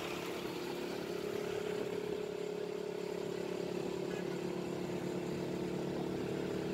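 Motorcycle ride through the city of Pune, with a steady droning engine hum and road and wind noise continuing evenly throughout, without distinct revs.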